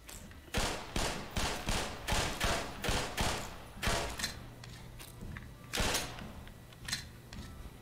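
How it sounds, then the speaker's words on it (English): Repeated grenade launcher fire in the Black Mesa video game, a rapid series of about eight loud, evenly spaced thumping shots followed by a few scattered blasts and mechanical clatter, with no talk. "using a grenade launcher in here."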